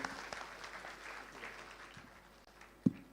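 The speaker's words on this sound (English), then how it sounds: "Another big round of applause to our moderator and panelists." An audience applauds the moderator and panelists at the close of a panel session, a soft, diffuse clapping that slowly fades, ending in one sharp thump.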